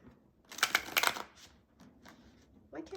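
Tarot cards from The Bizarre Tarot deck are shuffled in a quick riffling burst, followed by a few softer taps and shuffles, close by and fairly quiet.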